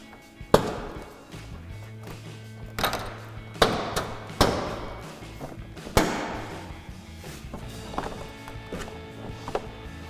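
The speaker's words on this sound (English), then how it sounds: "we are going to take our painted trim piece off" Painted trim piece being pried off a 2020-2023 Silverado/Sierra 2500 truck, giving several sharp plastic pops and knocks as it releases from its locking pins, close and loud with rattling handling sounds between.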